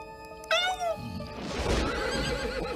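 A giant cartoon seahorse named as wild lets out a loud, wavering horse-like whinny, then snorts and splashes amid rushing water, close and alone.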